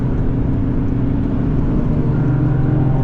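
A Toyota GR Yaris engine pulls hard under acceleration on the Nürburgring, a loud, steady droning growl heard from inside the car with no break in the sound.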